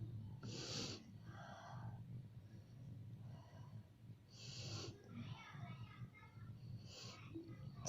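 Someone breathing in and out over a pot of boiling hot salt water steam as a home cough remedy, with several loud breathy exhalations and snorts spaced a few seconds apart over a steady low background hum.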